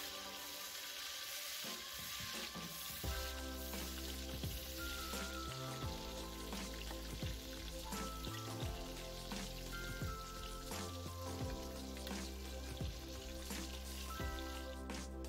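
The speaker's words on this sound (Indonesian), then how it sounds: "Sekarang saya goreng terlebih dahulu tempenya sampai matang dan garing." Tempeh frying in hot oil in a home kitchen, a steady, fairly quiet crackling sizzle with scattered pops and spits running throughout, no voices.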